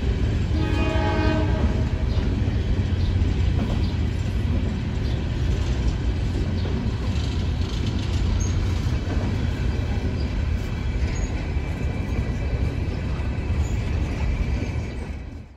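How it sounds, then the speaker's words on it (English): An empty Norfolk Southern coal train roars past close by, a horn blaring at the start over the continuous rumble and rattle of rolling cars. "Empty coal train heading"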